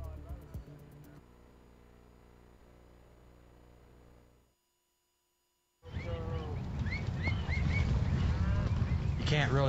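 Cattle on a Kansas ranch low and moo in the second half, following a quieter stretch of tonal music and a brief gap of silence.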